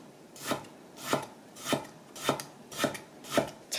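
Knife chopping through radish on a cutting board while julienning it for a seasoned radish side dish, with six evenly spaced crisp cuts about half a second apart, close and alone.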